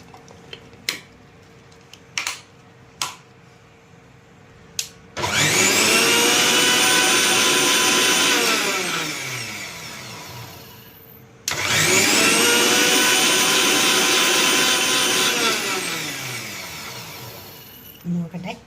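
Two long bursts of a blender whirring through homemade mayonnaise as sunflower oil is drizzled in, each run loud and close with a slight dip in pitch as the mixture thickens, separated by short clicks and handling noises.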